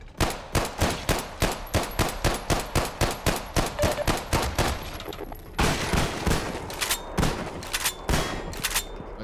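Rapid gunfire from The Division 3 video game, a steady train of loud, close automatic shots in quick rhythm, then a brief lull before more scattered bursts.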